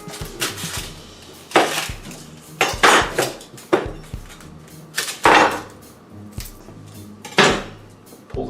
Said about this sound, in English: And then I'm going to cut up an onion.